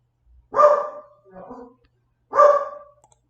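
A dog barks loudly and close by, two sharp barks with a softer yip between them, with no talk over it.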